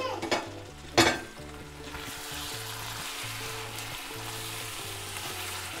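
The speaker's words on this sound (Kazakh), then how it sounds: "Жиі араластырып 20 минут, жарты сағат көлемінде қуырамыз." Meat seasoned with salt, pilaf spice mix and cumin sizzles in a pan for palau, a couple of sharp stirring knocks near the start, then a softer continuous frying hiss, no voices.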